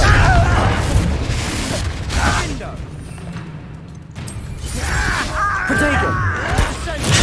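A Confringo fire-blast spell bursting in the video game Hogwarts Legacy, loud booming explosions amid dense combat effects and clashing mechanisms, with a shouted voice over the chaos and a brief lull in the middle.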